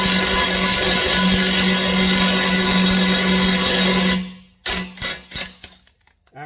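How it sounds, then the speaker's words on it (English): A small impact driver tightening a pipe fitting on a big-block 1959 GMC build, a loud continuous buzzing whine for about four seconds, then stopping, followed by several short sharp rattling hammering bursts, close by with no talk. "Use my little impact and tighten her up."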